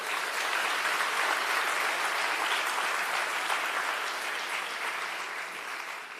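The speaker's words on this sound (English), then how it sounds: "we need to give a round of applause to the Office of Public Procurement" Audience applause at a public procurement conference honouring the Office of Public Procurement, a dense, steady wash of many hands clapping that holds loud for the whole stretch and tapers only slightly at the end.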